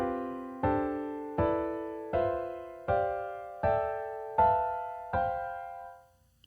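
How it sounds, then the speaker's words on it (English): Seven four-note chords built in fourths, a chord scale in voicing group 1, are struck one after another at an even pace, each ringing and decaying before the next, with the last fading out. "And this is a chord scale from S4 in voicing group 1, and sounds like this."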